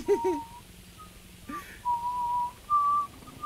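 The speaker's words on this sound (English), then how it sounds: "Is the whistling alright?" A person whistles a few short, breathy notes in a quiet room. Each phrase is brief and separated by pauses, and the whistling sounds close, soft and alone.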